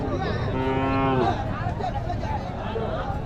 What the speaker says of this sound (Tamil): ஒரு மாடு சூப்பராக இருக்குது பாருங்க ஏறு மாடு